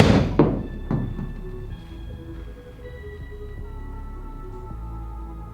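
A Cobra F9 Speedback golf driver strikes a ball with a sharp close thunk. A second, softer knock follows about half a second later, and faint electronic tones linger over quiet background noise.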